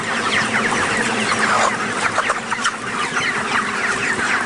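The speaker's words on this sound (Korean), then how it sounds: "경기도 안성시 보계면에 위치한 닭 사육장을 다시 찾았다" Chickens cluck steadily in a crowded poultry farm shed in Anseong, Gyeonggi Province, a dense, loud chorus of overlapping clucks and chatter from many birds, with no talk.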